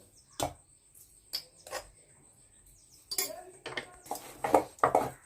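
Fish pieces being mixed with turmeric and chili powder in a bowl, faint clinks and clatters of utensil against dish in short irregular bursts, close and quiet, with a voice briefly speaking.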